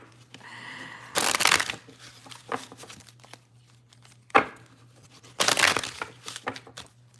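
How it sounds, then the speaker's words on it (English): A tarot card deck being shuffled by hand in several brisk bursts with quiet pauses between, close and fairly soft, with no talking. "A few more shuffles."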